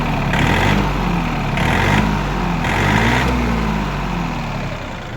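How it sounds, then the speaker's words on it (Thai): A Yanmar 39 hp farm tractor in good condition runs loud and close, its heavy diesel engine holding a steady idle with a few swelling revs. "เร่งเครื่องขึ้นมาครั"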